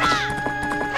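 A horse neighs in Majora's Mask video game, a sharp whinny with rhythmic clip-clop hoofbeats underneath, close and loud over about a second.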